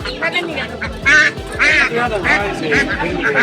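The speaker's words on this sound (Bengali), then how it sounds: "সুন্দর এক জোড়া চীনা হাঁস" Repeated loud quacks from a pair of large Chinese ducks in short bursts, close by, with people talking underneath.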